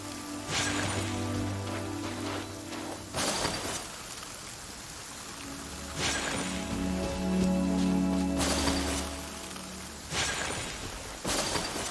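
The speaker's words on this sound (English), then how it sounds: "Let us find shelter from the rain." In the game Genshin Impact, rain patters steadily on surfaces, a dense hiss under music with bursts of louder crashing spray.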